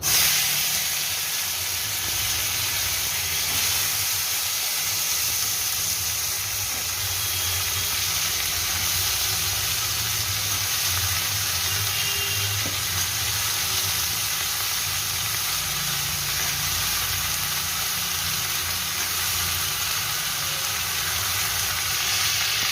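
Tomatoes sizzling in hot oil tempered with dried chillies and panch phoron for a tomato chutney, a steady loud frying hiss running unbroken throughout with no talking.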